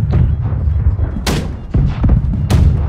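Ship cannons fire in the Blackwake naval combat video game: three loud, sharp booms land about a second apart, each followed by rumbling decay over a low, constant background.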